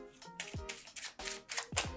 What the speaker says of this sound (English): if they choose to shuffle up the deck again